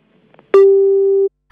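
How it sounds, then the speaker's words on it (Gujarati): A single steady telephone busy tone sounds loudly for under a second after a call drops, with a faint click before it and a short burst of noise after. "લાગે છે કે ફોન ડિસ્કનેક્ટ થઈ ગયો છે."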